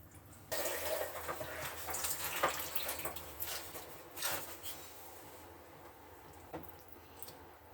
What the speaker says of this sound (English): I'm going to fill up the whole tank